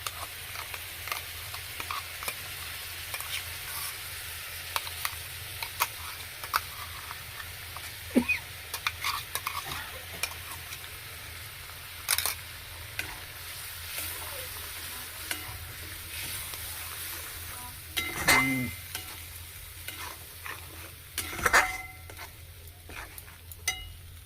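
Blended ground spice paste for butter paneer fries in a pan under a low, steady sizzle, broken by scattered scrapes and clinks of stirring and a few louder knocks against the pan, with no talking.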